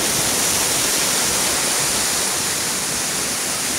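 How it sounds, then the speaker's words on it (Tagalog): Mahogany Falls, a small waterfall on a river in Trece Martires, Cavite, pours in a steady, dense broadband rush that stays constant and close throughout, with no voices over it. "Ito ang Mahogany Falls."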